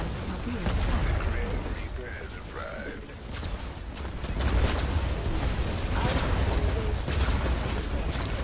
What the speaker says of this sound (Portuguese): Nossa, essas minas terrestres são muito fortes, né?